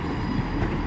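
An Arriva Trains Wales Class 158 diesel unit arriving at Shrewsbury station produces a loud, steady rumble with a rolling engine and wheel roar, briefly and without speech.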